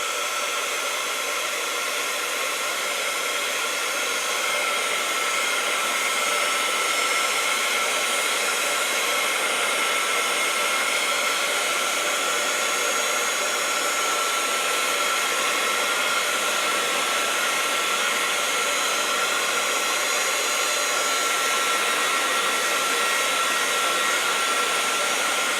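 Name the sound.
hair dryer drying craft paper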